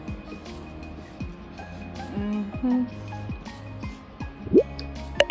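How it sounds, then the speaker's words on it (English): Hydrogen peroxide solution and water poured onto dry clay pebbles make close, wet dripping and squishing sounds in uneven bursts, with a louder splash toward the end over a quieter background. "So I'm just going to hydrate them with some hydrogen peroxide solution and water."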